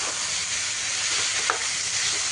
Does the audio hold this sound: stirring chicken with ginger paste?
yes